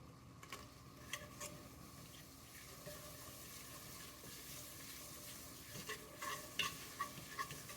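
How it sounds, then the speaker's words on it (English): Japanese white stew stirred in a pot, a faint soft bubbling simmer with quiet spoon scrapes and taps that grow more frequent toward the end. "Just keep stirring. You don't want it to burn."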